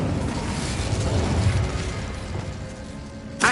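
A fire spell cast in the Hogwarts Legacy video game erupts as a loud, sustained rumbling whoosh lasting a few seconds, with a sharp burst flaring right at the end.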